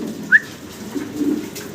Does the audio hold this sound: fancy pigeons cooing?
yes